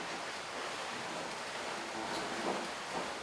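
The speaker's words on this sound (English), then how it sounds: "You hear water off the transom" Water rushes and hisses off the transom of an HH55 catamaran under sail at around 7 to 8 knots, a soft, steady wash of noise with faint swells, no voices.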